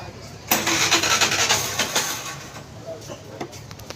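A Suzuki Access 125 scooter's engine cranks and catches suddenly, then runs with a loud, uneven sputtering roar that settles toward a quieter idle, heard up close without talking.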